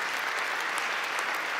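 Members of the Iowa Legislature applaud in a chamber, a steady, dense patter of many hands clapping, evenly sustained and moderately distant through the brief moment.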